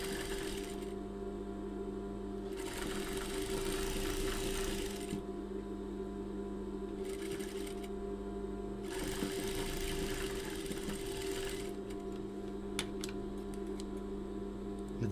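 A sewing machine stitching a hem on lingerie fabric, running in several steady bursts with short pauses between them, its hum and rapid needle clatter close and clear with no talk.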